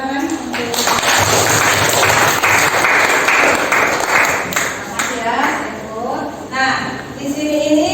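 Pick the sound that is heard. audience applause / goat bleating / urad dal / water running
audience applause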